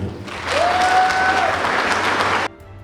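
A burst of loud, dense applause from a crowd celebrating a Ukrainian national record lasts about two seconds, a short whistle rising above it, then cuts off abruptly.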